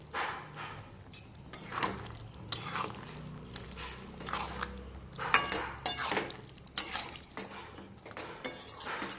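A metal spoon scrapes and clinks against a pan while bhetki fish chochchori is stirred, an irregular series of soft scraping knocks and clatters, fairly quiet and close.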